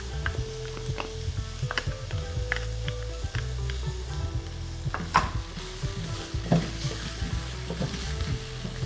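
Garlic hits hot oil in a pot of browning vegetables for vegan minestrone soup, a steady close sizzle running throughout with scattered clinks and scrapes of a spoon stirring.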